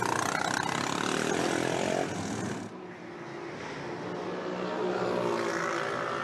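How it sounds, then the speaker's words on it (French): A Formula 4 race car fitted with a Triumph Bonneville engine drones steadily with a broad, loud engine roar for about two seconds, then drops to a softer, rougher rumble that slowly builds back up. "se présentent avec la voiture, avec la Formule 4 qui est équipée d'un moteur Triumph Bonneville"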